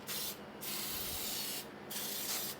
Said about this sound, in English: Now I've got the baking joy spray because this is going to be a sweet.